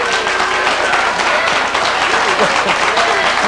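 Steady applause from an audience, a dense wash of clapping that holds at an even level for a few seconds.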